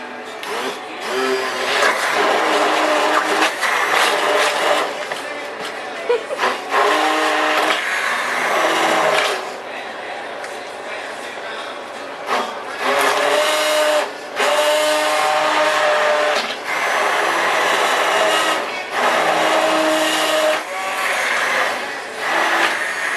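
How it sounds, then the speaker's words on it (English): A stick blender whirs loudly in repeated bursts of several seconds each, with short pauses between, as potatoes are mashed up close. "I'm going to take my little stick blender, boat motor, whatever you want to call it"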